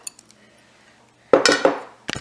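Rice tipped into a steel mixer grinder jar: after a few faint ticks comes a loud rattling, clinking pour lasting about a second, then a brief second burst of clattering grains.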